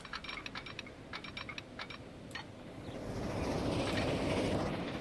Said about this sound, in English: Hello, train. You're on your way in.